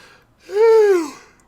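A single human yawn, rising then falling in a long voiced sigh of about half a second, close and clear with no talk over it.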